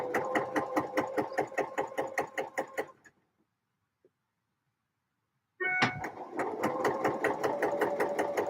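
A sewing machine stitches knit tops in fast, steady bursts, stops for a couple of seconds of near silence, then starts up again at the same close, loud pace.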